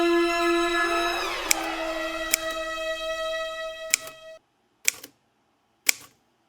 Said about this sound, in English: I need a break from all this typing